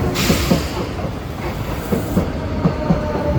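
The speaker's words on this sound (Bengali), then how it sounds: "কিছুক্ষণের মধ্যে আমাদের ট্রেন চলে এসেছে।" A train pulls into a station platform in Barcelona, with a loud continuous rumble and hiss and a steady clickety-clack of wheels passing over rail joints in evenly spaced pairs.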